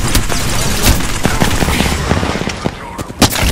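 Rapid gunfire in the video game Apex Legends, with bursts of automatic shots and sharp cracks crowding together loud and close, and a heavier pop near the end.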